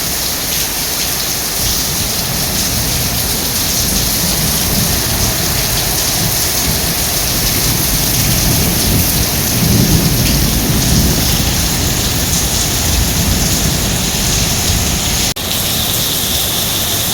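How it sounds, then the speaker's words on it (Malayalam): Heavy, wind-driven rain in the UAE roars as a loud, dense, continuous wash, with thunder rumbling beneath it and swelling around the middle. "കാറ്റോടു കൂടിയുള്ള മഴയാണ് കേട്ടോ നല്ല കാറ്റോടു കൂടിയിട്ടുള്ള മഴയാണ്"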